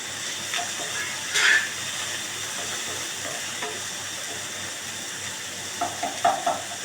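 Tomatoes sizzle steadily in a hot pan while being stirred in, a continuous moderate frying hiss with a few brief clatters of stirring, no voices.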